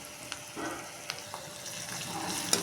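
Onions and green chillies frying in a pan with turmeric and crushed ginger-garlic paste, a soft continuous sizzle broken by a few light stirring taps and scrapes, no voices.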